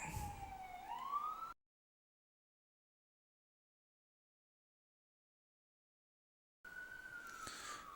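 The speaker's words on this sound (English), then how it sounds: "Ambulance, go away." A cartoon ambulance siren wails, sweeping up in pitch briefly, cuts to silence for several seconds, then returns as a steady high wail at the end.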